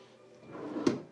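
A deep drawer in a studio room at Disney's Beach Club Resort slides open or shut, a soft rumble that builds to one short thump near the end, fairly quiet and with no talk.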